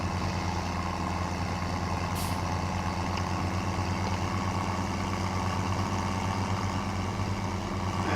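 A tractor or truck in Farming Simulator 17 cruises along a road, producing a steady, loud engine drone with a low rumble throughout and a brief hiss partway through.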